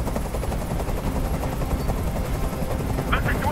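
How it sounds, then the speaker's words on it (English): A helicopter in the Detroit: Become Human video game gives a loud, continuous rotor thrum and chop, with voices talking over it. "Tell that helicopter to get out of here."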